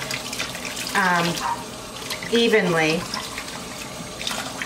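Lukewarm tap water runs steadily while a puppy gets a bath, a close continuous splashing stream with a person talking over it.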